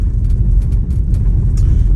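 Tesla Model Y crossing a large snowy ridge, a steady low road rumble and drivetrain drone filling the clip at close range, with faint scuffs and knocks from tires over packed snow.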